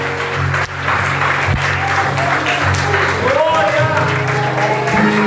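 A church congregation claps steadily for God, a dense wash of applause running throughout under a voice and tonal music.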